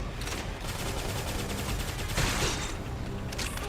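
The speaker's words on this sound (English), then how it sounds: "with some gunfire." Rapid bursts of gunfire from battle combat in the video game Xenoblade Chronicles X ring out continuously, with a louder crackling flurry near the middle, all under busy game effects.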